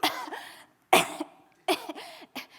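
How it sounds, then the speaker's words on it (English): Several harsh, wet coughs in separate bursts, loud and close, with short pauses of quiet between fits. "I began to cough profusely."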